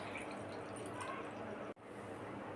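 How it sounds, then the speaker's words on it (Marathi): Water is poured from close by into a glass of homemade lemon sherbet powder, a quiet, steady liquid stream that pauses for a moment before continuing. "पाणी घालूया"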